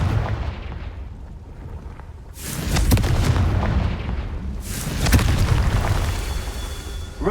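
Two booming fire-blast spells going off in Hogwarts Legacy, each a loud burst with a rumbling tail, spaced a couple of seconds apart over a low background hum.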